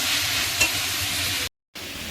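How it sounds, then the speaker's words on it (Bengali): Leafy greens (shaak) fry in a pan, giving a steady, close hiss of sizzling with a faint scrape of stirring, briefly cut to silence near the end before the frying resumes. "আর এই হলো আমাদের শাক ভাজা হচ্ছে।"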